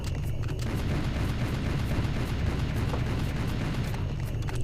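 Gunfire from pistols in Serious Sam: The First Encounter, set in Karnak, as a dense, steady barrage of booming shots that runs nonstop through the whole stretch at loud, even volume.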